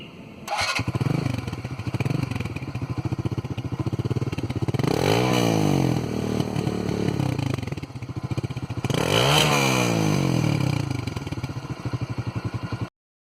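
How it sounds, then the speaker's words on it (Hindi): A Bajaj Vikrant V15 BS4 motorcycle engine runs with a steady, close thumping beat that swells twice into louder revs before settling back, with no talking. "इसमें कुछ धक धक टाइप की आवाज़ आती है, सुनाता हूँ आपको।"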